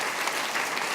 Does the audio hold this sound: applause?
yes